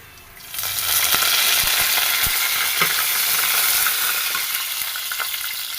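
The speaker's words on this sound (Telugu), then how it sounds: "ఇలా వేగిన దాంట్లో కరివేపాకు" Curry leaves drop into hot oil for bagara rice and burst into a loud, close, steady sizzle, with a few stirring clinks over the frying.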